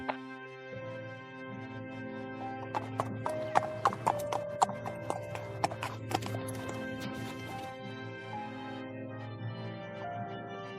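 Hooves of two horses clip-clopping in a cartoon scene, a steady run of sharp knocking steps over background music with no talk.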